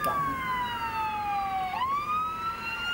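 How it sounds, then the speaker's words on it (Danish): A fire engine siren wails close by, its long tone sliding down then sweeping back up as the truck approaches, loud and steady over faint traffic rumble. "Og Jonas, nu kommer der en brandbil kørende lige i ryggen på dig."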